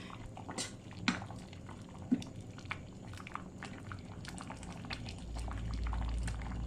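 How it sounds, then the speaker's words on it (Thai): Thai khi lek curry made with fresh fish bubbles hard in a pot, a soft, continuous simmer with scattered pops and splashes, faint and close, with no voices. "เดือดจัด"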